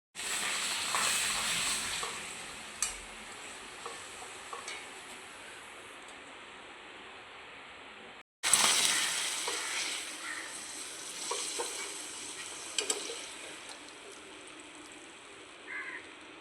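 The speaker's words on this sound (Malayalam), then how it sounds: "ആദ്യമായിട്ട് നമുക്ക് പപ്പടം വറുക്കാം." Pappadam fries in hot oil, a bright, crackling sizzle that rises sharply when each one is dropped in, then fades. A brief gap falls between two bursts, with scattered clicks of utensils. Nobody speaks.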